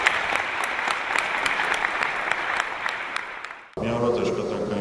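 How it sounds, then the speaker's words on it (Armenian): Loud, dense applause fills a party meeting hall, steady for several seconds before breaking off abruptly as a voice begins speaking. "Որոշումը ընդունվում է միաձայն եւ բուռն ծափողջուններով"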